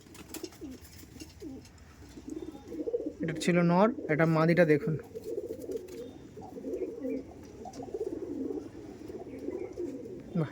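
Andhra Madrasi pigeons, a male and female pair, coo steadily in low rolling calls while someone talks over them close by, his voice louder in the middle stretch.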